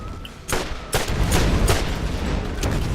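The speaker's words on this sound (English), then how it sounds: "You just sprint around and aim up in the air with an SMG and hip fire." Sustained SMG hip fire in the Borderlands video game: a loud, dense burst of rapid gunshots with sharp cracks over a continuous rumbling roar of battle noise.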